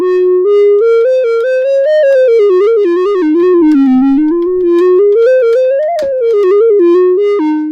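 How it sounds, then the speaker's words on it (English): A Behringer CAT synthesizer plays a dry, 1970s-style mellow flute lead, a solo monophonic melody of smoothly gliding sustained notes with soft breathy tone, up close and with no effects or accompaniment. "you would very rarely use a synth sound like this without some effects"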